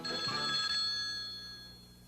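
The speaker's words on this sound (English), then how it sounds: "Pick up your phone and give them a ring." A telephone bell ringing in a vintage television advertisement, a single burst of ringing that decays and fades away, clear and alone.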